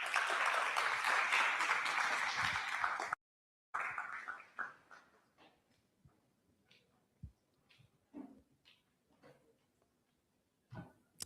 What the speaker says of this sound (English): Please, let's give her a huge round of applause.